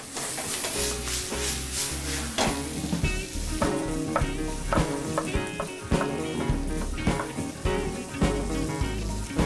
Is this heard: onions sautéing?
yes